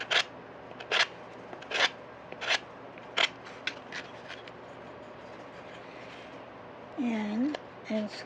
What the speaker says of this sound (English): I'm just scraping down.